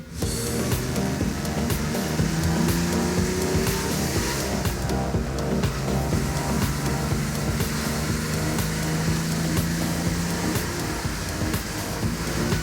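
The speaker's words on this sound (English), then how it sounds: "this engine just sounds so fantastic" A Porsche engine drones steadily while the car is driven, a continuous hum with road and wind noise, fairly even in level throughout and with no one talking.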